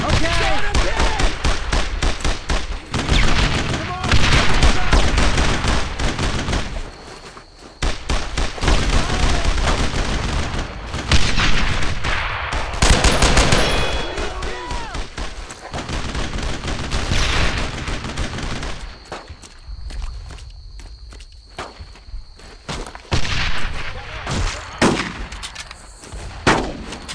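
Sustained gunfire in Brothers in Arms: Road to Hill 30, a World War II shooter, with dense rifle and machine-gun bursts pounding almost nonstop, broken by brief lulls, and soldiers shouting between volleys.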